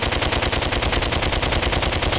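Rapid automatic gunfire in the VR shooter DWVR played with a PSVR Aim controller, a loud, fast, even burst of shots repeating about ten times a second without a break, close up and alone.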